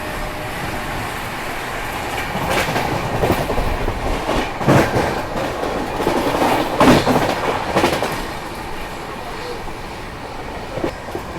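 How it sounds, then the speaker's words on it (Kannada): A North East train runs steadily on rails from inside a carriage, with a continuous rumble and rhythmic clickety-clack of the wheels, loud and close, with no talk. "ಸೊ ನಾವೀಗ ನಾರ್ತ್ ಈಸ್ಟ್ ಟ್ರೈನ್ ಒಳಗೆ ಹೊಂಟೇವಲ್ಲ"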